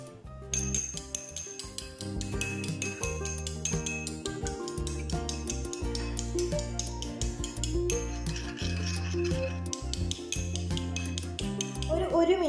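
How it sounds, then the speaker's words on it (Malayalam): A spoon stirs a lemon hair-care mixture in a bowl, making repeated light clinks and scraping rubs against it, with a steady background bed underneath. "ഒരു മിനിറ്റ് നന്നായിട്ടൊന്ന് മിക്സ് ചെയ്യുക കേട്ടോ."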